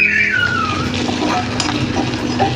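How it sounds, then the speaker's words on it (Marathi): Close, loud sizzling of onion sautéing in oil, a dense steady hiss with a short tonal squeak near the start. "आपण हे कांदा घेऊया टाकून कांदा लाल होईपर्यंत आता आपल्याला परतायचं"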